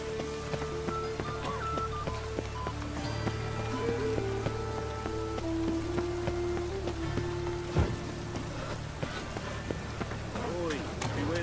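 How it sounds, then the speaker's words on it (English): Steady rain in the video game The Witcher 3: Wild Hunt patters across surfaces with scattered drips, under a soft tonal background and faint footsteps. "And it's raining again."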